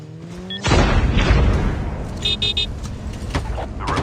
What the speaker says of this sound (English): Trapped airstrike has been delivered.